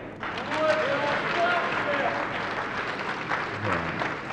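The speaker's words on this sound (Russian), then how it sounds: "Крики болельщиков" Billiards fans at a world championship match cheer and applaud, a loud crowd roar with clapping and shouts that swells early and holds steady, with a voice talking over it.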